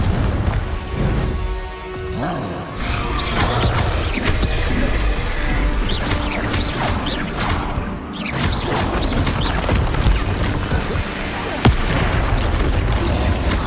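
Repeated Confringo explosion spells burst in Hogwarts Legacy combat, loud booming blasts and crashing impacts arriving in quick succession amid continuous spell-casting and battle noise.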